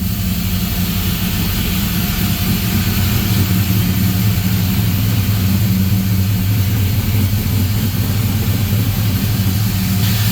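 A Toyota Lexcen car engine idles steadily with a loud, continuous low rumble and drone, close to the listener and without a break.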